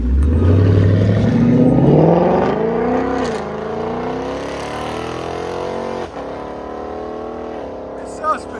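A 2019 Ford Mustang GT with a 5.0L V8, an H-pipe and a Borla S-Type exhaust makes one loud pull, its roar climbing steadily in pitch through the gears with a brief dip at a shift, while voices talk over it.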